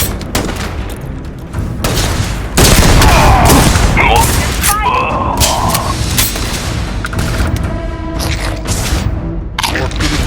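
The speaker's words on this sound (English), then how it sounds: "Throwing a grenade!" In the video game Starfield, a grenade goes off with a heavy boom, set amid bursts of rapid gunfire and loud, chaotic combat noise.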